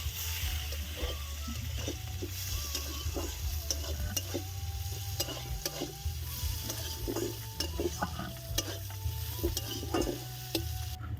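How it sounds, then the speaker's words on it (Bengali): Chopped onions fry and sizzle in a pan while a utensil repeatedly scrapes and stirs them, a steady close hiss broken by clattering strokes, with no talking. "পেঁয়াজ কুচি একটু লাল লাল করে ভেজে নেবো পেঁয়াজটা"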